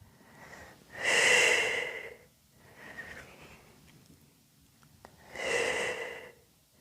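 A person breathes deeply during a twisting stretch in a recovery session. Two long, loud exhales through the nose come a few seconds apart, with a softer breath between them, all close to the microphone.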